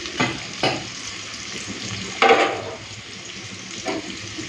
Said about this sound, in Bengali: এই সময় কয়েকটা চিংড়ি মাছ দিয়ে দিই